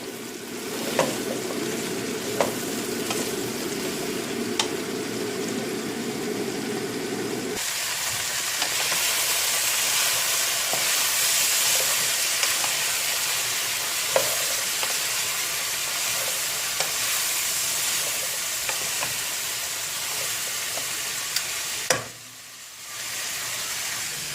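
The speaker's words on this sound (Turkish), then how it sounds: "Fasulyemiz yağda sotelenecek biraz. ara ara karıştıracağım fasulyemizi" Green beans sauté in oil with a steady hiss and sizzle that starts lower, then grows into a brighter, fuller frying sound, broken by occasional stirring clicks and a brief pause near the end.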